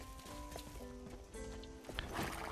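Horse in the fantasy action role-playing game Sacred 2: Fallen Angel, with soft hoof clip-clops and faint movement sounds under steady game music and ambience, low in level.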